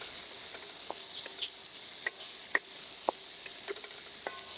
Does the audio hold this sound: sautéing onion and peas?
yes